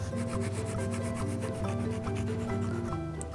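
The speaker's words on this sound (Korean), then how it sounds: "제가 이 상태에서 식빵처럼 일단 잘라 볼게요." Knife sawing through a freshly baked tangzhong milk bread pullman loaf, a steady rhythmic rasping of repeated strokes, close and fairly loud, with no talk.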